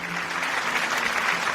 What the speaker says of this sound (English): Palakpakan po natin si Miss Virginia Bautista.